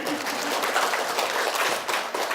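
An audience at a pharmacist's lecture claps in a brief, dense, moderately loud burst of applause.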